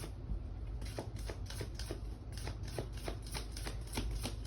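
An oracle card deck is shuffled by hand in a steady run of soft, riffling flicks, about ten quick bursts repeating evenly and close over a low background hum, with no talking.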